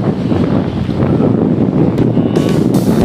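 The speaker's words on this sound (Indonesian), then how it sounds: "Jadi begitu besar ya, angin terlalu kencang." A strong west wind buffets the microphone at a beach in Paciran, Lamongan, with loud, continuous rumbling gusts and the roar of waves close by and no voices.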